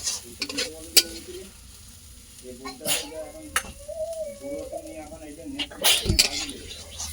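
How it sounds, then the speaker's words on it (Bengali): Pond weed and fish are stir-fried in a pan, with intermittent spatula scrapes and sizzling bursts close by while a person talks over the cooking. "ভাজা হয়ে গেছে এবার মা নালটা লাগিয়ে নিচ্ছে"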